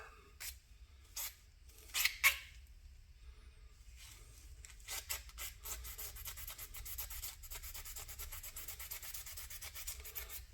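Abrasive rubbing on a Honda CB350 fuel petcock part: a few brief scrubbing strokes, then a steady run of quick, close, raspy back-and-forth scratches, quiet and without talk.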